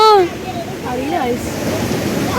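Rain-swollen stream water rushing steadily, a broad continuous wash that runs loud throughout, with a short burst of talking at the start.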